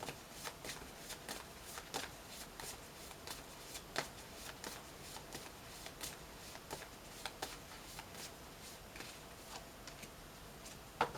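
Tarot affirmation cards are shuffled by hand in steady, quick riffles and soft flicks. The sound is close and quiet, with no other sound over it.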